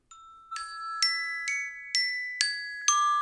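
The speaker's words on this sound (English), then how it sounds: "she had an alarm on her phone, and it was this one" A bright electronic chime tone repeating at a steady pace, six ringing hits about half a second apart, each decaying briefly, clear and alone.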